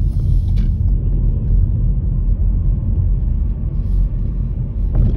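A car on a driving-test route in Newtownards, Northern Ireland, runs in second gear, its engine giving a steady low rumble from inside the cabin with no talk.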